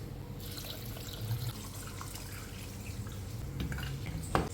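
Water is poured into a pot of beef bones for Tamil-style beef bone soup. A steady, close rushing stream runs throughout, ending in a brief metallic clink near the end.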